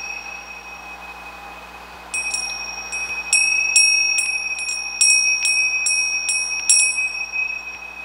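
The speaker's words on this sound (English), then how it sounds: "Ring the bell on it." A bright, high-pitched bell rings in a quick series of clear metallic strikes, each with a sustained ringing tone, loud and close with no talking.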